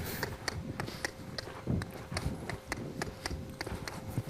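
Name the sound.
horse hooves while being ridden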